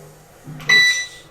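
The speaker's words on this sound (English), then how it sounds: "Is that a good beep?" A single electronic beep, a steady bright tone lasting about a third of a second over low background hum, with no voices.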